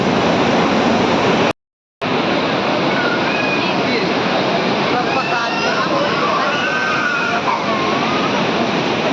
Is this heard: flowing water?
yes